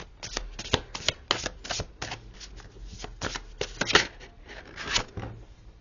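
A deck of playing cards riffled and shuffled in repeated quick bursts, close and crisp, for a tarot-style card reading, with almost no talk over it.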